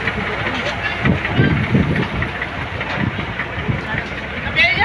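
A motor pump runs at a fire scene with a steady, rumbling engine drone. People talk loudly over it.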